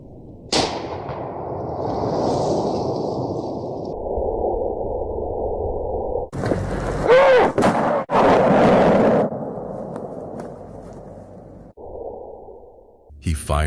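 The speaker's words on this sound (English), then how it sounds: "He fires into the darkness." A rifle goes off into the darkness on a night trail, sharp loud cracks cutting through a hissing, muffled low rumble, with several abrupt bursts and a booming echo midway.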